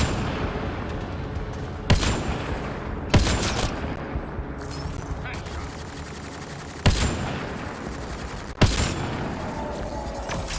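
Gunfire in the video game Mass Effect Andromeda: several sharp, loud shots strike at irregular intervals over a continuous rumbling battle background, with no talk.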